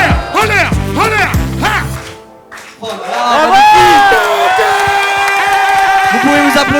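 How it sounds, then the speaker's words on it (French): A group of children chant in unison, then break into loud, excited cheering and shouting with some clapping, the overlapping high voices filling the second half. "Vous pouvez vous applaudir."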